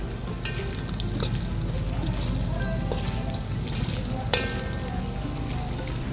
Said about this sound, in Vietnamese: các bạn chiên cho đến khi các bạn thấy là khô cá cơm của mình nè, đó nó vàng như thế này là được ha các bạn